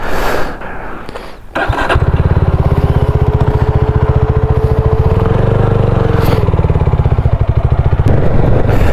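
A BSA Bantam 350 motorcycle engine runs steadily during a ride, a close, loud, even drone that settles in after a brief rough start.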